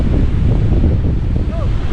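Strong wind roars across the microphone by the sea, a dense continuous rush with the wash of surf beneath and a faint voice in the background.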